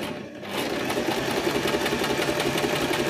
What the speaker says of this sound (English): and then we'll start sewing.